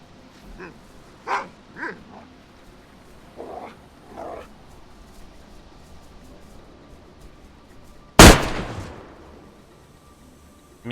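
A dog in the DayZ video game lets out one loud, sudden burst near the end, close by, after several short, faint sounds that come and go. The scene is otherwise quiet, with no talking.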